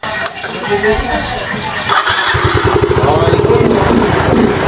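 A Yamaha Mio scooter engine cranks and catches, settling into a rapid, loud putter; a voice is heard briefly near the start.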